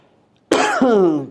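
Two harsh coughs in quick succession, loud and close, following a moment of near silence.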